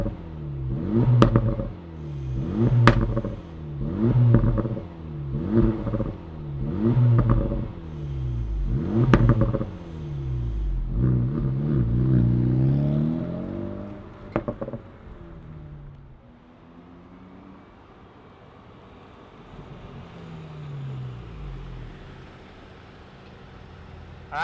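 A 2026 Acura Integra Type S, a front-wheel-drive performance car, starts up and its engine is blipped through a string of sharp, rhythmic revs, loud and close, before settling into a quieter idle with no talking.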